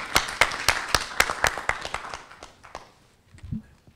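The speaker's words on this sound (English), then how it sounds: "Let's welcome him with a warm applause." Applause from an audience, a burst of sharp claps that fades out over a few seconds and ends in quiet.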